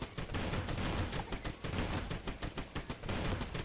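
Rapid assault rifle fire in the mobile game Swamp Attack: continuous, dense bursts of shots with brief gaps, loud and close, with no talking.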